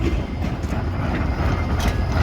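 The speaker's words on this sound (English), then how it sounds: "So we're gonna wait for this tram." A tram passing on a city street in Bratislava gives a low, heavy rumble with faint wheel noise, close and steady for a few seconds with no talk.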